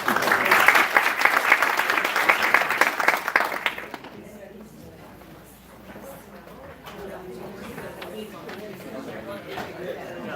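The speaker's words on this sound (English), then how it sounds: "And now we clap." A conference audience claps loudly and densely for about four seconds before the applause drops off, leaving scattered claps and low murmuring chatter in the room.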